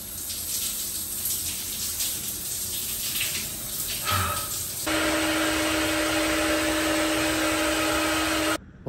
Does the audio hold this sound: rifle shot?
no